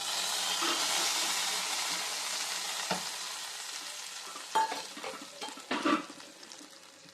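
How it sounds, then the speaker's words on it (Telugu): Cashews fry in a pan for sweet pongal, a loud steady hiss of sizzling that gradually eases, then several sharp clattering stirs of a spoon against the pan near the end. "జీడిపప్పుల్ని ఇలా వేయించుకొని దీన్ని మనము పొంగలిలో వేసుకుందాం"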